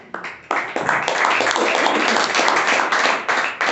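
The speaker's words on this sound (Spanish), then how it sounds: "Denle un aplauso" Clapping from a church congregation during a sermon, steady and dense for several seconds after a brief ragged start, fairly loud and close, with no talk over it.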